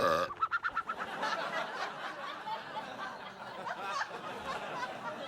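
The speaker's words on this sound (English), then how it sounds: "The cat burped a bird." A warbling, gulping burp turns into squawky, clucking bird noises, with faint chuckling voices underneath.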